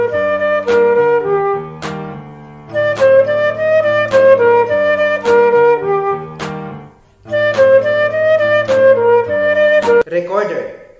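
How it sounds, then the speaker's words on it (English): A medieval flute, a recorder-like woodwind, plays a lively tune of clear sustained notes in repeated phrases. Pitched accompaniment sits underneath, and the sound is close and bright, with short pauses between phrases. "It's a recorder-like woodwind instrument"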